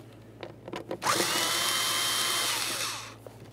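A power drill spins off 8mm mounting nuts under the passenger-side dash of a 2002-2009 Chevrolet Trailblazer, a close whirring burst of about two seconds that winds down, with faint clicks and handling noises before and after.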